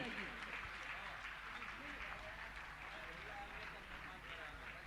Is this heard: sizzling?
no